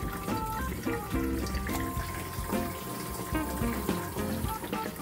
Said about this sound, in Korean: 싱크대에 물을 계속 틀어놓고 싱크대 하단을 살펴보았습니다.